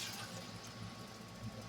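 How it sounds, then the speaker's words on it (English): Hot water is poured into a canning pot holding jars of dilly beans, a steady, fairly faint wash of running liquid that continues through the whole moment. "I'm going to go ahead and pour some of this water in there."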